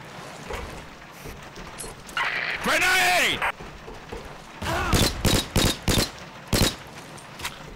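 Gunfire in the video game Combat Arms: Line of Sight, a run of sharp rapid shots in bursts late on, mixed with other game effects and someone talking over it.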